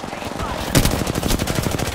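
Rapid automatic gunfire in Apex Legends rattles in a dense burst starting about midway, loud, sharp and closely spaced shots after a quieter opening.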